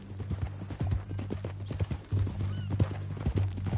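Horse hooves clip-clopping in Red Dead Redemption 2, a steady rhythmic walking gait close by with a brief whinny, over a low ambient hum, with no talk.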